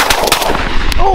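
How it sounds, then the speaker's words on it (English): Shotgun fire rings out on a mourning dove hunt. Loud, close, cracking blasts come in quick succession outdoors, and a brief voice rises right after. "Oh, nice shot."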